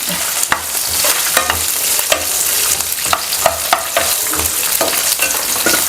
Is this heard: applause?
no